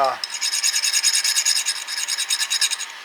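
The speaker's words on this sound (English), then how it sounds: "file off that burr" Hand file rasping a burr off a wrist pin from a Kawasaki KLT110 engine, a steady run of about twenty close, even back-and-forth strokes with no talking.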